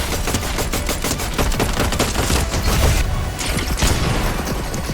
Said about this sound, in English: I then heard a mammoth pistol in the background